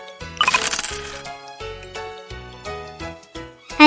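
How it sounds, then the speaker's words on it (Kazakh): Metal coins tumble and jingle out of a wallet, a bright, close cluster of clinks and small rattles that settle into a few scattered taps, ending with one louder clatter. "Әмиян."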